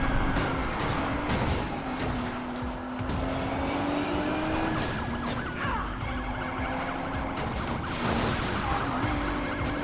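Police car chase in the Need for Speed Payback video game, with a steady wailing siren over loud continuous engine roar and road noise, close and sustained, no talking.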